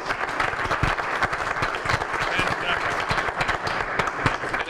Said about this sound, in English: let's give a big round of applause for all our representatives